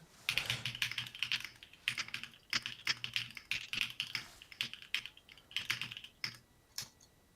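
Typing on a budget mechanical keyboard with no RGB, fast bursts of clacky keystrokes in uneven clusters with short pauses, close and clear with no talk.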